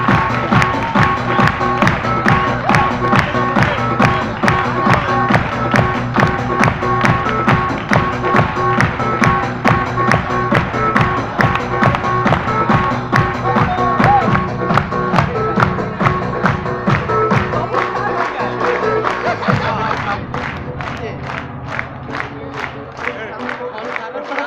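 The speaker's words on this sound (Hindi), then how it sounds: "आपकी जोरदार तालियों और तालियों के बीच में" Loud, dense audience applause fills an award ceremony hall with sustained rapid clapping, tapering slightly toward the end as a few voices rise over it.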